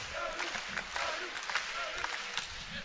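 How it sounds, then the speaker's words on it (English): Volleyball crowd at a men's college match between Lindenwood and Hawai'i, a dense roar of many voices chanting and clapping in rhythm as a player readies to serve, steady and moderately loud throughout. "Crowd starts to chant"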